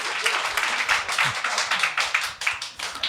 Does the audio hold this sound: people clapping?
yes